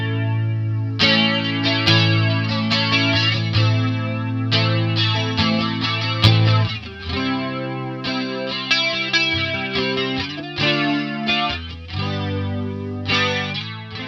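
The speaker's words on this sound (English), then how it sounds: "That's as slow as the flanger will go, which is not particularly slow." Electric guitar played through a PastFx clone of an original EHX flanger pedal set to its slowest rate, a run of chords with a slow sweeping swirl across the notes, loud and continuous with no voices.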